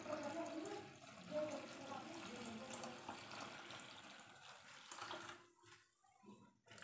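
Water for coconut rice is poured into a pot of rice, a soft continuous gurgling splash that runs for several seconds and then tapers off into quieter trickles, faint and close, with no talk.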